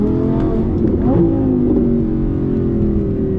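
An Audi R8 V10 Plus engine revs and climbs in pitch as it accelerates on an alpine road, a loud, steady roar close by with no talking.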